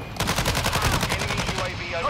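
Rapid automatic gunfire from a Call of Duty Modern Warfare match, a loud sustained burst of evenly spaced shots running almost the whole time, with a faint voice underneath.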